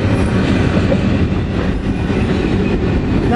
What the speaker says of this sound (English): Now you got empties all over this train.